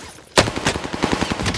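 Rapid automatic gunfire in the Warzone battle royale game, a sharp first shot followed by a fast rattling burst of repeated shots, close and loud, with no talking.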